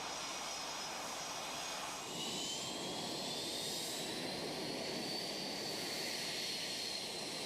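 A Blue Angels jet flies a solo test flight after a part change, its engine roaring steadily at a distance, with a rising whine that swells slightly partway through.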